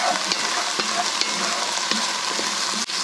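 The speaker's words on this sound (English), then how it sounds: "I'm going to turn my heat pretty low on this initially, just because it's going to take a minute for that bacon to start rendering out its fat" Bacon frying in a pan over low heat, a continuous soft crackling sizzle with occasional faint clicks and stirs, steady and close with no talking.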